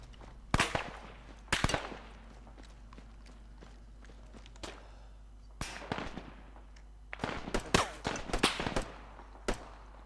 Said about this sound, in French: attention, prends encore des tirs des 6